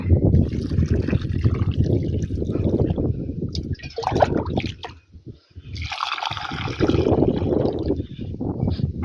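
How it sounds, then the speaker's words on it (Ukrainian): Two litres of water poured into a planting hole while setting out low-growing tomato plants in garden soil, a close, steady trickle and splash that runs for several seconds, briefly breaks off, then resumes. "Лю сюди 2 літри води."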